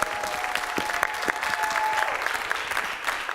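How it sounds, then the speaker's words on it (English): A crowd applauds steadily at a talk about the Ferguson movement, a dense, even patter of many hands heard at a moderate distance, with no voices on top. "Give them a round of applause for that"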